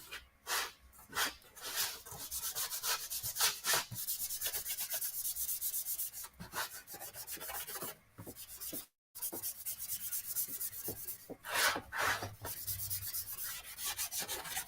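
Steady scrubbing of metal with a Scotch-Brite pad and acetone: continuous close, rough rubbing strokes with brief pauses and one short gap, heard alone.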